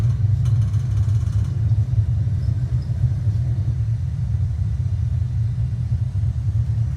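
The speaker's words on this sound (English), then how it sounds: "Auckland Airport, and we have V1 takeoff." Passenger aircraft engines during the takeoff roll at Auckland Airport on a test flight, a steady low heavy rumble and drone heard from inside the cabin, constant throughout.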